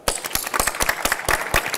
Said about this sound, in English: A warm round of applause to Nick Appleyard, CEO of TriStar Gold.